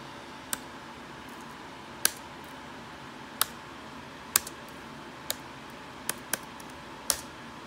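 Keys on a laptop keyboard tapped in sparse, isolated clicks, about eight separate presses spread out with pauses while a web search is entered, quiet and close against a faint steady room hiss.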